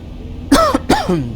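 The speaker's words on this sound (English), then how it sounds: "Just had to cough." One person coughs twice close up, two sharp harsh bursts a moment apart in a quiet setting.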